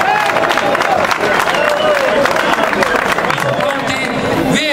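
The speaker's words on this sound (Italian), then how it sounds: "Facciamo un grosso applauso" A crowd at an amateur-category race event, the Coppa Santa Venera, applauds and cheers loudly and steadily, with voices and an announcer talking over the clapping.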